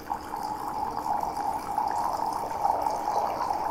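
Water poured from roughly 10 cm above a cup while brewing black tea in the Korean Darye tea-ceremony style, giving a steady, close, continuous splashing trickle that lasts throughout with no talk.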